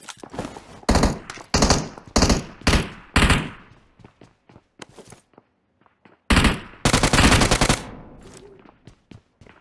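Game gunfire comes in repeated bursts of rapid automatic shots, loud and close, separated by short gaps and scattered single shots, with a long sustained volley near the end.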